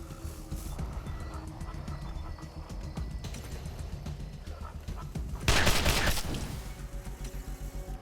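Rapid gunfire bursts from a battle in the Wasteland 2 video game, a dense stream of repeated shots with a louder, harsher volley midway, set against game background sound.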